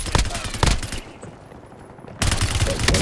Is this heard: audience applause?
no